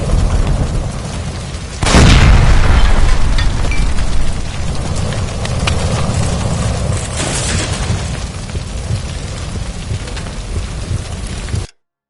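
A gas line blows up in a burning electroplating building in a video game, with a sudden loud boom that cuts through the crackling, rain-like roar of fire and keeps roaring afterward.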